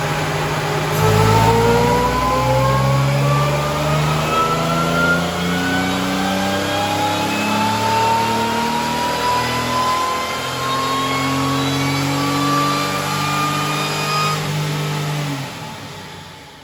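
An L67 supercharged engine in an El Camino with no intercooler, running without mufflers removed but quieter exhaust, revs up steadily on a dyno in one long sustained pull, rising in pitch for about fifteen seconds before cutting off, loud and close.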